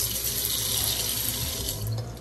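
Sink tap in an older house kitchen with painted cabinets runs with steady pressure, a constant close broadband rush of water filling the whole clip, with faint mechanical rattling underneath.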